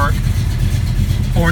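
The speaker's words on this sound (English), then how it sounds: "Again, you can hear the car idling very nicely" A 1974 AMC AMX Javelin engine idles steadily and smoothly close by, a low rumbling drone running the whole time without revving, with brief faint voice fragments at the start and end.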